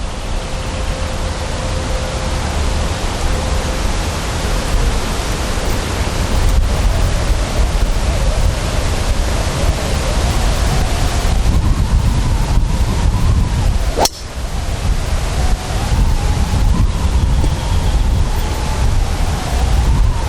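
Outdoor wind buffets the microphone in a steady, loud, noisy rush for about twenty seconds, with one brief dip partway through and no speech.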